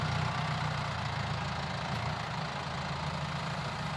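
A tractor of at least 120 hp, fitted with a heavy front roller and hitched to a Rabe Ceria 3001 A implement, idles with a low, steady rumble and faint knocking, close and unchanging throughout.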